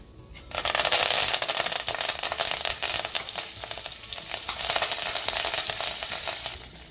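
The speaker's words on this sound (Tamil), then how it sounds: "இதை லைட்டாக இந்த மாதிரி வந்து வறுத்துக்கோங்க" Loud, crackling sizzle of whole spices frying in hot oil for a Madurai mutton curry, close up and continuous, with faint stirring throughout.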